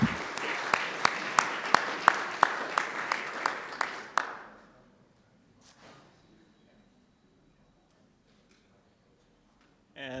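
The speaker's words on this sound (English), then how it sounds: "So round of applause for Terrell for winning our Twitter contest." Applause from a hackathon awards audience, a scattered round of clapping with regular sharp claps that fades after about four seconds into quiet room tone.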